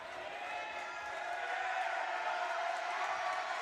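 Crowd at a Brooklyn at Independence basketball game cheering, a steady broad roar of voices in a gym swelling slightly toward the end, with a faint voice underneath.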